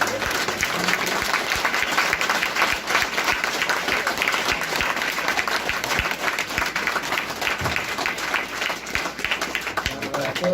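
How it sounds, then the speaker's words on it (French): A crowd at the close of an evening freedom ceremony claps loudly and continuously, a dense, even wash of many hands that barely varies in level, with faint voices underneath. "On l'applaudit encore bien fort."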